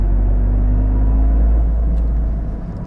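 Toyota Corolla GR Circuit Edition engine laboring in third gear uphill at about 2,000 RPM, a steady loud low rumble that eases slightly near the end.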